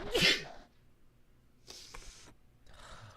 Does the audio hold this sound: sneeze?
yes